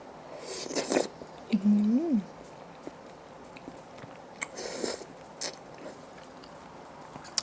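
Someone chews a mouthful of spicy kuay chap, Thai rolled rice noodles in homemade stock, with a few soft, close biting and mastication bursts and a brief hummed vocal tone in between.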